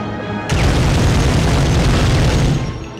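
An explosion in the PlayStation 1 game Medal of Honor, a single loud, heavy boom that bursts in suddenly and rumbles on before easing off, with no voices.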